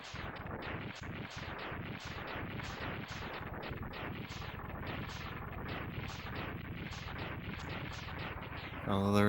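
Rapid chains of booming explosions from the Mega Man X3 video game, dense and rhythmic, firing almost continuously at an even loudness and ending with a brief tonal game sound.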